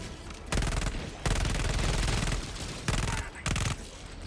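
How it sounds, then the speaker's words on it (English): Loud, dense bursts of automatic gunfire from the Helldivers video game, sustained volleys broken by brief pauses, close and overwhelming. "That's quite a barrage that's coming my way."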